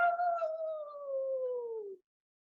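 A coyote gives a single drawn-out howl that slides slowly downward in pitch for about two seconds, clear and alone against silence.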